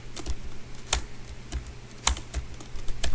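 Computer keyboard being typed on at close range, a quick uneven run of crisp key clicks with no talking.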